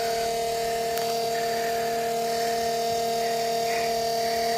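An RV macerator pump pushes sewage into a hose, giving off a steady, droning electric motor whine that holds a constant pitch throughout.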